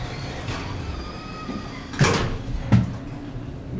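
A Westinghouse traction elevator door slides shut in an old building, giving two short mechanical thumps close by against a steady low hum, with no talking.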